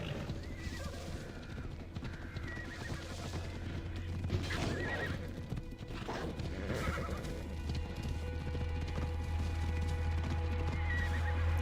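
A horse whinnies amid continuous hoofbeats and a steady low rumble in Assassin's Creed Odyssey, the galloping sustained throughout.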